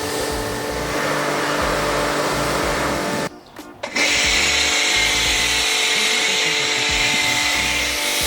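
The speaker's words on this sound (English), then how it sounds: "So now we're snow foaming it." Snow foam is sprayed onto a 2020 Toyota GR Yaris with a motorized foam sprayer that gives a loud, close, steady mechanical whir. It pauses for under a second midway, then resumes with a stronger hiss.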